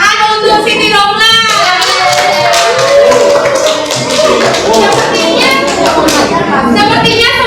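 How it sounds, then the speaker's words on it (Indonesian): A class gives a round of applause for a student named Siti Romla, with steady, fairly loud hand clapping from many people and voices chattering over it. "Tepuk tangan untuk Siti Romla"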